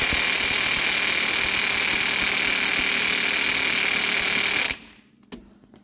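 A DeWalt impact wrench hammers loudly and continuously at the crank bolt of a 2004 Acura TL for nearly five seconds, a dense buzzing rattle heard up close, then cuts off abruptly and leaves near-silence.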